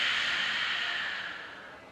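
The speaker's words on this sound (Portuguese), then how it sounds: "agora eu vou explicar a respiração, que é conectada com essa, que chama Ujjayi" Ujjayi yoga breathing demonstrated by a single person: one long, steady, hissing breath with an ocean-like rasp that holds near and clear, then gradually softens toward the end, with no talking.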